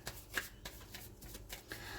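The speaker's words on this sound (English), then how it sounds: "I'm going to shuffle here for the underlying energy for the week" Tarot cards are shuffled by hand in a quiet room, a soft, fairly faint run of riffling and flicking pulses repeating at an uneven pace.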